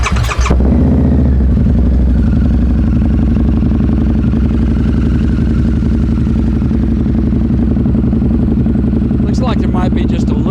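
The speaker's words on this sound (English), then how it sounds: "Fired off and let you listen to that header." A Harley-Davidson Night Rod Special VRSCDX with 1,117 miles fires up and settles into a loud, deep, steady idle through its headers, close by, with a brief rev and clatter near the end.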